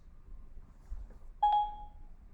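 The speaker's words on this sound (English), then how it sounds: "So beep beep. Okay, so I just heard from Siri that Siri is on it" A single short electronic beep from Siri rings out faint and clear over quiet background, a brief tonal chirp lasting under half a second.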